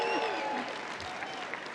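A convention crowd keeps up an even clapping ovation, with faint whoops and cheers mixed into the applause.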